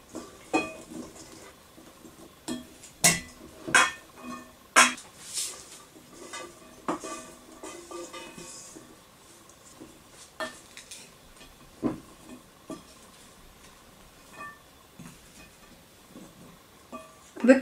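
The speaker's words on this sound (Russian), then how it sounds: "Добавляем понемножку нарезанный хлеб и перемешиваем." Scattered light scraping and clinking of a utensil stirring bread cubes with seasoning in a bowl, soft irregular strokes with quiet gaps between them.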